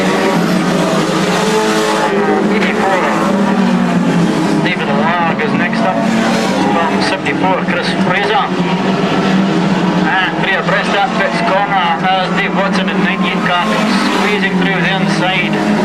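Stock cars race around the Crimond track in 2002, a dense, continuous roar of several engines with shifting pitch sweeping past, while a commentator calls the race over the top throughout.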